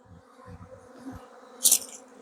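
Honeybees hum during a honey harvest at an Adana apiary as a hive is worked, the buzz low and steady with low knocks early on and a sharp brief rise near the end.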